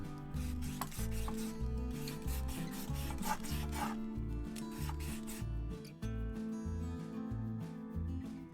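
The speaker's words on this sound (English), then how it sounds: "Now I'm peeling a russet potato" A russet potato is scraped by a peeler in rhythmic rasping strokes, about a dozen close, even pulls with brief pauses between them, no talk.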